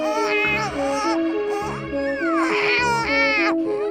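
A voice imitating a newborn baby crying: continuous wavering wails with rising and falling pitch, loud and close, sustained for several seconds without pause.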